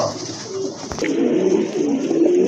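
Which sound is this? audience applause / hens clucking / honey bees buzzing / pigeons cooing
pigeons cooing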